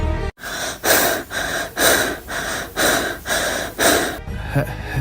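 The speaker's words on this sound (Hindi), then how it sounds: "सिर्फ सांसों की आवाज" Heavy, rhythmic breathing close to the mic, about seven loud breaths in steady succession with no talking.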